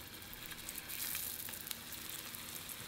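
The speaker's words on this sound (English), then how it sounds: "Then add the scallion pancakes." Scallion pancakes made from dumpling wrappers pan-fry in avocado oil, producing a soft, steady sizzle and crackle, quiet and close with no speech.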